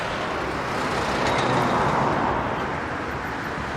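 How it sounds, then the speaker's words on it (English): Steady roadway traffic on the Nairobi-Nakuru highway in Kenya, a continuous broadband roar of cars, buses and trucks with one vehicle swelling slightly nearer midway, no voices. "watching vehicles speed, overtake, climb and descend along the stretch can be horrifying to anyone"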